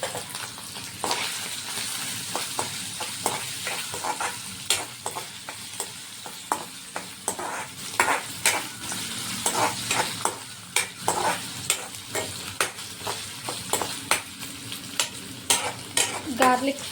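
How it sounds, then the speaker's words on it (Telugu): Paneer frying and sizzling in a pan while being stirred, with steady sizzle under repeated scraping and stirring strokes throughout, fairly close and continuous. "పన్నీర్ కూడా లైట్ బ్రౌన్ అయ్యేంత వరకు ఫ్రై చేసుకోవాల్సి ఉంటుంది."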